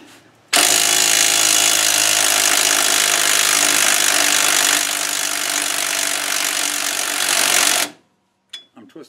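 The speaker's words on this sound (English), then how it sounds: "I'm just going to see if my little hammer drill here has enough guts to get those nuts off." A DeWalt cordless hammer drill spins off the axle nuts on a classic Mustang 8-inch rear end, one loud continuous whirring, rattling run of about seven seconds that stops abruptly, followed by a few faint clicks.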